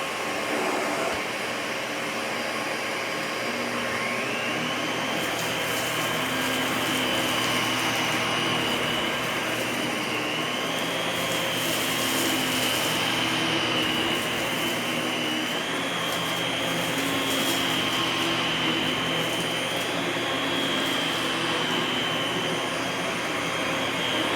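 A Miele S7580 Tango upright vacuum cleaner whirs steadily and loudly on setting 5, its high motor whine shifting slightly in pitch as it moves, with no talking.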